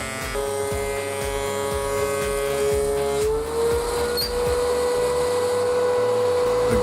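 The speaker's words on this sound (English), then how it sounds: "I feed the first 8-inch by 8-foot board into the planer" A DeWALT DW735 thickness planer runs loud and close as an 8-inch by 8-foot exotic bloodwood board feeds through, a steady motor whine that drops and roughens in pitch partway through when the cut takes hold.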